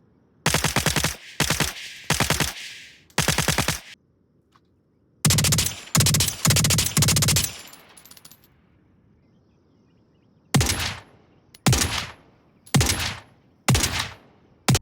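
Gunfire from weapons in the VR shooter Onward, heard as loud close bursts of automatic fire alternating with single sharp shots, separated by short quiet gaps.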